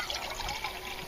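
Water pours in a steady, close trickle into a small, cheap camping cup for about a second.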